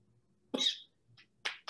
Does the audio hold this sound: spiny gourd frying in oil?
no